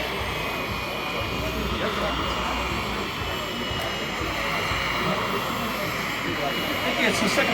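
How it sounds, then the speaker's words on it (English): A Miniature Aircraft X-Cell model helicopter with a 7-horsepower twin-shaft turbine engine and composite blades flies at a demo event, giving a loud, steady turbine roar and whine throughout, with voices talking over it. "The turbine has 7 horsepower. Has a twin shaft engine"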